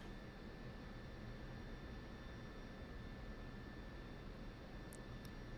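F-16 Viper jet in the DCS flight simulator rolling down a runway, giving a steady, dense engine roar and broadband rumble with high whine tones, constant in level throughout, with no talk.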